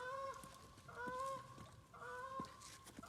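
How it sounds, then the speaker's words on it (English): Geese honk in three bursts of loud, nasal calls about a second apart, with quieter clucks between them. "oh, there goes the geese"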